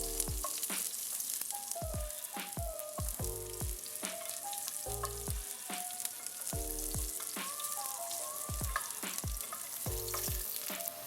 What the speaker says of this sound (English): add the sliced pieces of ginger and let it fry for a few minutes